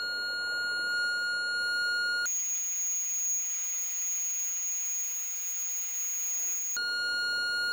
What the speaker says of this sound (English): The cockpit warning is already there, but the landing continues anyway.